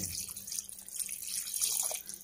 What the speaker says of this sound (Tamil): தண்ணி ஊற்றிக்கலாம், அது முங்குறளவு ஊற்றி வைப்போம்.